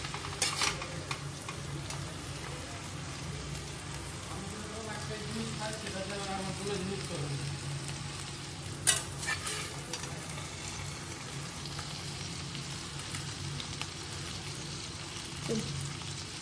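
Fish chorchori being stirred in a pan, a continuous low sizzle with scraping and clattering stirring strokes throughout, including a sharper knock midway.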